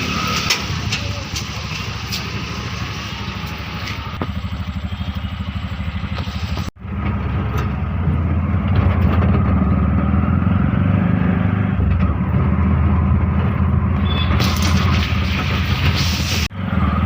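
An auto-rickshaw engine idles nearby with a steady, low, rattling chug that runs on for the whole stretch, with two short abrupt breaks.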